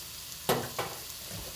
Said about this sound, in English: and browning, caramelizing the pieces of tuna here